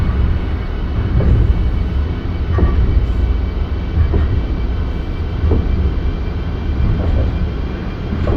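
Amtrak Acela Express train running from Washington DC toward Wilmington DE in Microsoft Train Simulator, a steady loud rumble and roar with faint periodic clacks, continuous throughout with no voices.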